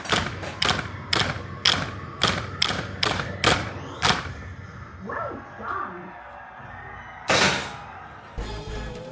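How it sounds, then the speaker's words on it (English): A solenoid in an Attack from Mars pinball topper fires in a quick, regular series of sharp mechanical thumps, about nine in a row. A couple of louder, isolated knocks follow after a pause, loud and close. "that little solenoid, there's two of them. There's one in there, and there's one back here for the UFO."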